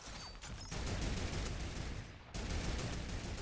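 Dense Fortnite gunfire fills a match with rapid overlapping shots. The sound is steady and loud, and it drops away briefly once before starting up again.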